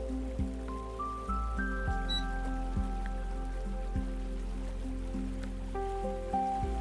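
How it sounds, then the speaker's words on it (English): Steady, gentle rain falls on surfaces, soft and continuous, under a quiet layer of sustained tones that step slowly upward. "Let the rain ease your thoughts."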